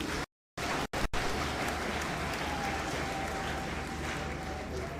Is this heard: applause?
yes